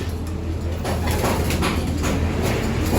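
Young pigeons coo and stir in a loft aviary, soft cooing and fluttering over a steady low hum from start to finish.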